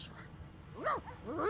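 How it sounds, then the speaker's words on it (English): A dog whining in Divinity Original Sin II, two short rising-and-falling whimpers close by, high and plaintive, after a brief quiet stretch. "The dog whines and continues pawing at its nose."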